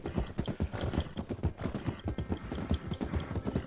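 Galloping horse hooves in the video game Red Dead Online, near the town of Valentine, make a rapid, steady clip-clop rhythm, loud and close throughout with no talking.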